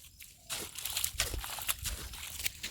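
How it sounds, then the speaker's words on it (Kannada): Rainwater from a flooded farm gushing out through a drain outlet, a close, splashing, irregular rush of water with rising and falling surges. "ನೀರ ಇನ್ಸೈಡಿಂದ ಔಟ್ ಸೈಡ್ ರಿಲೀಸ್ ಮಾಡ್ತಿದ್ದಾರೆ"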